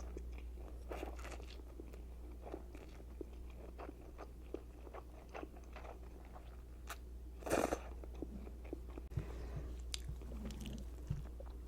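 Large noodles being eaten up close in a mukbang, with repeated soft bites, crunchy chewing and wet slurping textures continuing steadily, a brief louder burst partway through.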